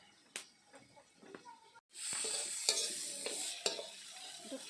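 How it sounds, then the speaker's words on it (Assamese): Pieces of kuchia eel fry in a pan. A few quiet clinks give way to a loud, steady sizzle, broken by sharp stirring knocks against the pan. "কুচিয়া মাছখিনি পাক খাব ধৰিছে"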